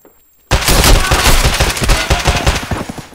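Rapid bursts of pistol gunfire in the video game Escape from Tarkov, loud and close, firing in quick successive shots for about three seconds after a brief silence.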